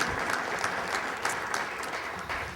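An audience applauds a city leader at a talk on Wall Street and the New York economy, a sustained, even wash of many hands clapping with no speech over it.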